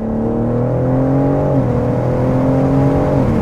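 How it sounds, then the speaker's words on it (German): A BMW M4 Competition coupé's six-cylinder engine revving, loud and close with a smooth, steady tone that rises and dips slightly, sounding alone without talk. "Ein schöner, schöner 6-Zylinder-Klang."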